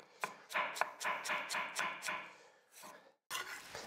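Knife slicing onions into fine strips for an onion tart, a quick run of crisp, close chopping strokes on a board, about a dozen in steady rhythm, then a short pause and a few more cuts.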